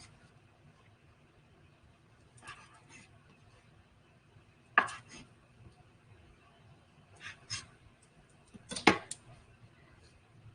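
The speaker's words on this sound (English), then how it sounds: "we need to cut the edges of the bread" A knife trimming the edges off bread slices, a handful of separate soft cutting strokes spaced out over a quiet kitchen background, near and fairly faint.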